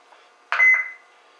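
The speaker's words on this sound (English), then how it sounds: "Makes that little beep sometimes." An electronic jukebox horn module mounted on a scooter gives a single short, sharp electronic beep, clear and close against near silence.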